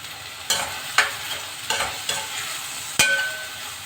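Green chillies fry in a pan for a vanjaram fish curry, a steady close sizzle broken by several sharp stirring scrapes at irregular intervals.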